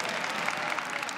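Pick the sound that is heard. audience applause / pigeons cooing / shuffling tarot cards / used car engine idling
audience applause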